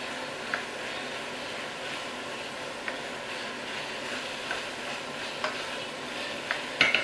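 Minced meat and mushrooms stirred in a frying pan, a continuous soft sizzle broken by light periodic scrapes and taps of the utensil, ending in a couple of louder clinks; no one speaks.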